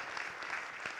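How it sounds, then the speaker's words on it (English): A crowd applauding at a motivational business talk, a brief burst of dense clapping filling the room with no voices over it. "come on, give him a round of applause"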